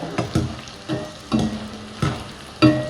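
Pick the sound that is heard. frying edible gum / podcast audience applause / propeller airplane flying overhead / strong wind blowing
frying edible gum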